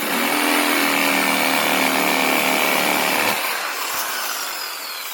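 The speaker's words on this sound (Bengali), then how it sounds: "আর মেশিন দিয়ে কত তাড়াতাড়ি কেটে যাবে দেখাই যাক।" A power saw bites into dry date palm branches, its loud, harsh rasping drone running continuously up close. Toward the end the cut eases and the tone thins out.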